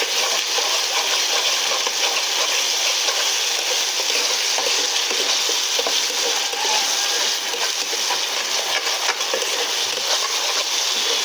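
Chicken gravy is stir-fried slowly in a pan, making a loud, continuous hissing sizzle with no break for the whole stretch.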